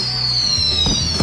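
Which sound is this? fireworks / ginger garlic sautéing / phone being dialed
fireworks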